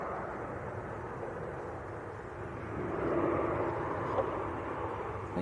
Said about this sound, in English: Got KLM on short finals as well. So KLM 737 next to land.